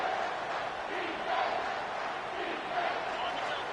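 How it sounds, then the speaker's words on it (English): A college football stadium crowd in a Ragin' Cajun versus Ole Miss game keeps up a steady, loud roar on third down, a dense sustained wall of cheering voices with slight swells across the moment. "this crowd will blow out a vocal cord to help this defense"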